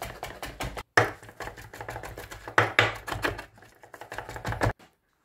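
Knife rapidly chopping anchovies and capers on a board, a fast, dense run of sharp close knocks with a short pause, then the chopping stops.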